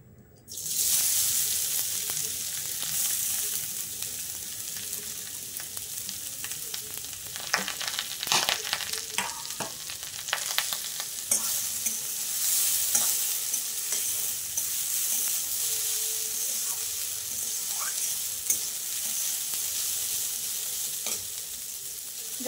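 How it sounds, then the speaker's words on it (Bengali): Pumpkin pieces frying in hot ghee, a loud continuous sizzle with occasional clinks and scrapes of a spoon stirring, close and steady throughout with no voices. "আমি কুমড়োগুলোকে এবার এই ঘিতে সব ভেজে নেব"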